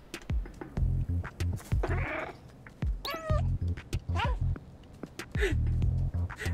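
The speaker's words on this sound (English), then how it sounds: "Lieutenant Cat on the job. Meow." A cat meows several times in the video game Stray, short, clear, close calls with rising and falling pitch, mixed with other in-game sounds and a person talking in between.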